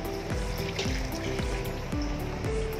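A glass of water poured into a pot for chicken adobo: repeated gurgling, bubbling liquid sounds with short rising trickles, close and moderately quiet, with no talking.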